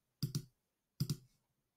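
Two crisp double clicks from a computer mouse, close and quiet, spaced under a second apart against silence.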